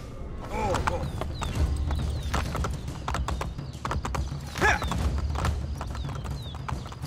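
Horse in Assassin's Creed Brotherhood galloping in a rapid, steady clip-clop rhythm, close and prominent, with a whinny cutting through partway along and voices talking over the hoofbeats.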